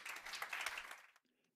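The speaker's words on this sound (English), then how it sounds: "Round of applause." Applause from an audience greeting a visiting speaker at a climate and ocean CO2 removal talk, a dense burst of clapping lasting about a second before it abruptly cuts off into near silence.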